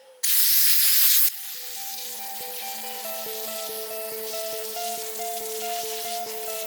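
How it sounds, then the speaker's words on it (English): A short, loud blast of compressed air hisses at close range while drying a small two-stroke whipper snipper's foam air filter, then cuts off abruptly, leaving a quieter steady background hum. "The quickest way for me to dry it is to use compressed air."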